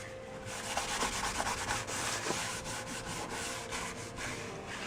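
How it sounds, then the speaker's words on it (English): Edges of a paper painting mounted on canvas being rubbed down by hand, a close, steady papery rubbing with quick repeated back-and-forth strokes throughout. "I rub down the edges."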